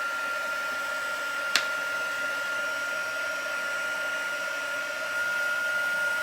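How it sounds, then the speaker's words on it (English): A handheld heat tool blows hot air over a curled paper fern card to dry it, giving a steady, even whoosh for the whole stretch with one brief sharp click early on and no talking. "I'm going to get my heat tool, and I won't talk because I'm going to heat."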